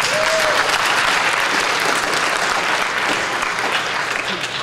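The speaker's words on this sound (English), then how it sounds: "So clap it up for Mikayla." An audience at a talk claps loudly and steadily, a thick continuous burst of applause that tapers slightly near the end.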